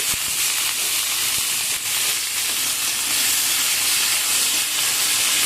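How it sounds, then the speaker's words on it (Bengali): Flat beans and onion stalks fry in hot oil after eggplant slices, giving a steady, bright sizzling hiss that holds evenly from start to finish, with no voices. "এই তেলের মধ্যে আমি ভাজা করে নেব শিম আর পেঁয়াজ কলি।"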